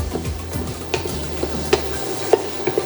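A spoon stirs turmeric powder into ngohiong filling in a pan, scraping and clinking repeatedly in an uneven rhythm with a few sharper taps, close and clear over a faint sizzle.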